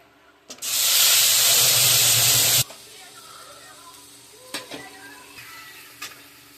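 Dry red chilli, bay leaf and cumin seeds drop into hot oil with a loud, close sizzling hiss that bursts up suddenly, holds for about two seconds, then cuts off, leaving soft clatter and quiet sizzling.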